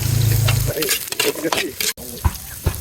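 Onions sautéed in a pan for street-style tinola, a loud close sizzle with busy stirring and scraping of a spatula, a low hum at the start and no clear talk.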